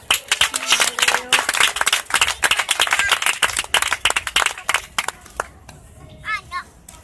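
A crowd claps in lively, uneven applause for several seconds, fading out as a few voices call out at the end.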